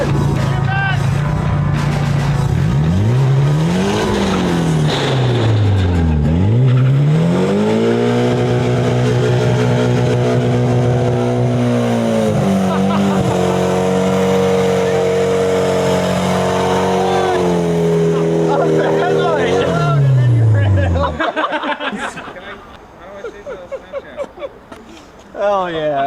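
A drifting car at a driveway, its engine revving hard and loud with rising and falling pitch sweeps for about twenty seconds before cutting out, followed by brief quieter sounds.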